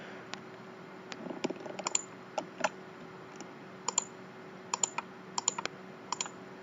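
Computer keyboard typing, reportedly acting up, in bursts of sharp, irregular clicks with short pauses over a quiet room hum.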